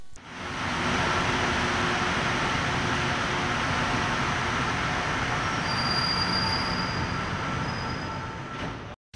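A Montreal metro subway train rumbles steadily for several seconds, its wheels squealing faintly above the continuous roar of the cars on the rails, loud and close, with no voices.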